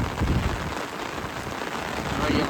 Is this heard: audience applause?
no